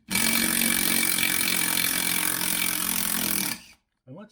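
A Hitachi 10.8V impact driver backs out a lag screw with a loud, continuous rattling whir for about three and a half seconds, then stops abruptly. A brief voice follows.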